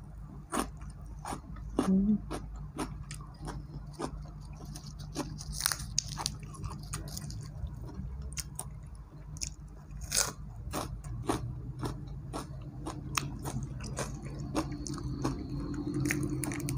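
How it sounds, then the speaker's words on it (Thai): Steamed shrimp heads crunched between the teeth, dipped in seafood and suki sauce, giving a long run of close, sharp crackling bites and chewing clicks at an irregular pace, with a voice speaking faintly underneath. "มากินหัวกุ้งเลย"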